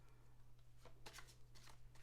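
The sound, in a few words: shuffling a new deck of tarot cards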